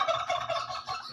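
A pet turkey gobbling nearby, a loud rapid warbling burst that rises and falls across about a second, heard alone.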